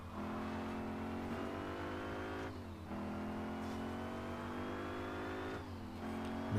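A race car in the Switch racing game Gear Club Unlimited 2, its engine droning steadily and revving up through gear changes with brief dips between shifts, loud and continuous with no voices.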